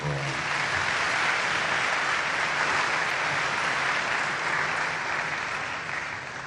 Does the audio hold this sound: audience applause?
yes